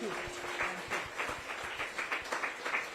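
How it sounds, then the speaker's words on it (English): Children applaud at a literary and cultural festival, a quiet, somewhat distant patter of many small hands clapping with irregular bursts throughout. "Please give her another round of applause"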